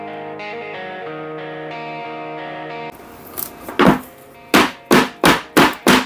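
A baking tin of brownie batter is tapped on a hard surface several times: first a couple of uneven knocks, then five loud, evenly spaced thuds, after a stretch of sustained musical tones.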